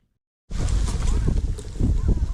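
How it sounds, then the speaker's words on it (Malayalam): Strong wind at the Kalvari Mount hilltop viewpoint buffets the microphone with loud, rumbling gusts that begin abruptly after a moment of silence and roar on unevenly. "നല്ല കാറ്റും ഉണ്ട് കേട്ടോ."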